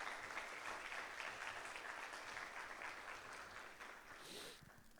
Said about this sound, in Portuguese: Você pode dar uma salva de palmas a Deus por isso?